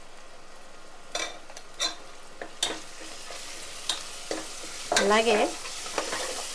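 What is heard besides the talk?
onion pieces frying in a pan with turmeric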